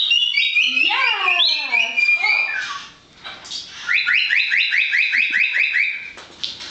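A rescued pet parrot at an avian sanctuary vocalizes loudly and close, with rising and falling whistles and a rapid series of repeated chirping calls, without any human speech.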